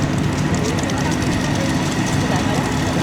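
Early vintage tractor pulling a tipping trailer in a demonstration arena at a steam and country fair, a loud, steady engine drone with continuous rumble and no pauses.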